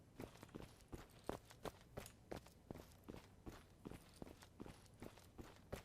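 Footsteps of an in-game character in the Zula online shooter, a steady run of distinct, fairly close thuds with a few quicker steps, sounding alone without talk.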